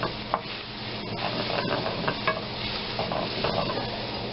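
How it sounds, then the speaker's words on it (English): Food cooking in a pan while being stirred: a steady, close sizzle with a run of scraping and stirring strokes throughout. "Stirring to make sure nothing sticks or burns or scorches."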